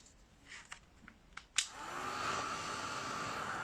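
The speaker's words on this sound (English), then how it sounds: "I'm going to give that a little zap with the with the heat dryer" A handheld heat dryer aimed at painted glass mittens clicks on after a few soft taps and handling knocks, then blows in a steady, close whooshing roar that holds to the end.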